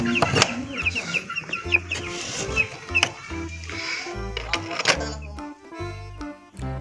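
Chickens in a backyard coop, with short clucks and squawks scattered across the clip over a busy, cluttered background of music and other noise.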